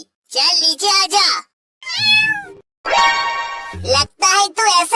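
A small cat meows several times between a child's speech in a lively home scene, the mews high and upswept, close and fairly loud.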